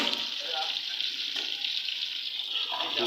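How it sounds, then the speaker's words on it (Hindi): Cabbage, peas and chopped carrots go into a hot pan with browned garlic and ginger paste, giving a steady close hiss of frying with light stirring and faint water-like crackle throughout. "सब्ज़ियाँ डाल के इसे हमने तकरीबन 5 मिनट के लिए फ्राई करना है।"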